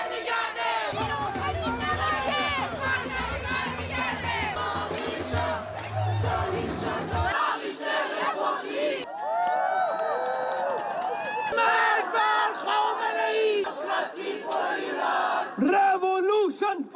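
A crowd of Iranian dissidents and refugees rallies abroad, voices chanting and shouting together loudly and continuously, with a low rumbling drone beneath during the first seven seconds and dense overlapping cries throughout.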